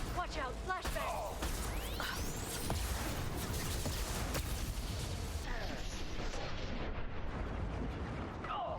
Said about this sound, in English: Watch out, flashbang!